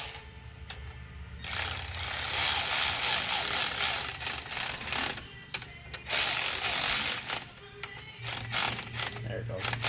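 A ratchet wrench tightens down an engine rocker arm, giving repeated clicking pawl bursts over a steady mechanical background hum, fairly loud and close throughout, with people speaking over it.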